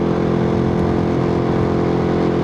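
Malaguti Spectre 125 GP motorcycle being ridden, its engine holding a steady, buzzing drone with a constant hum close by, no voices over it.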